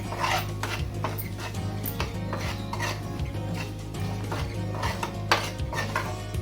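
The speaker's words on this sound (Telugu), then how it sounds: "బాగా కలుపుకోవాలి." Rice with salt and turmeric is stirred in a metal pan. Steady close scraping and clinking of a utensil against the pan continues throughout with no speech.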